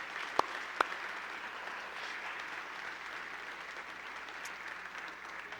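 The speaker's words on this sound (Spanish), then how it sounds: "Aplaudamos al Señor." Steady applause from a crowd, a dense even patter of clapping lasting throughout, with a couple of sharp knocks near the start.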